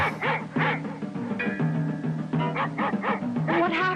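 A small poodle yaps in a quick series of sharp, rhythmic barks over a steady musical backing, loud and close throughout.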